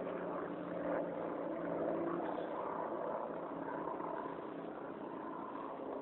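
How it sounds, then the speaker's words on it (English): Aircraft making a flyby at an air show near the end of a runway, a continuous droning engine roar held steady and fairly loud throughout, swelling slightly as it passes, with no talk. "They're doing another flyby."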